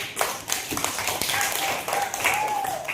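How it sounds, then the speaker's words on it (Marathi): Children clap in a classroom during a riddle game, a quick run of sharp, uneven claps lasting a few seconds, fairly close, with a voice speaking faintly underneath. "टाळ्या वाजवण्यासाठी"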